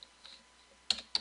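Light taps on a computer keyboard, a few faint scattered keystrokes followed by two sharper clicks, close and quiet in a still room.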